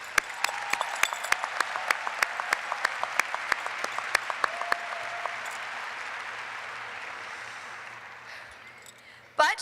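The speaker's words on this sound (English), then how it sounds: "let's take a moment now and give ourselves a round of applause" Graduates at a 2018 high school graduation ceremony break into a round of applause: many hands clapping together, building into dense sustained clapping that fades toward the end and stops abruptly.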